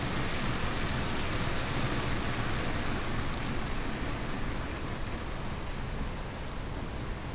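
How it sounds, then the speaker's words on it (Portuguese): Tyres of a passing car hissing over a wet road in the rain in Fernbus Coach Simulator, a steady broad wash of spray and rainfall that holds evenly and eases slightly near the end. "Olha o barulho do pneu na chuva do carrinho passando."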